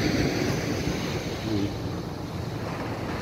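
Open sea on a fishing trip, with a broad rush of waves and wind buffeting the microphone from a boat. The noise is continuous and moderately loud, with no voices over it.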